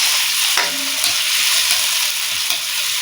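Tomatoes fry in a hot pan with a constant loud sizzle and a few scraping stir strokes, close and without talk.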